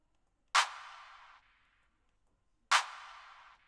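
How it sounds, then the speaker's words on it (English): Two sharp clap samples with reverb tails in an FL Studio Afro woro beat built around ogene, each hit decaying over about a second, spaced roughly two seconds apart with silence between. "there is a clap with a reverb that begins at every"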